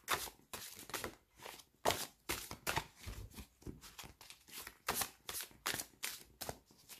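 Tarot cards are shuffled by hand in quick, crisp riffling bursts with short pauses between, close and fairly quiet, with no talking.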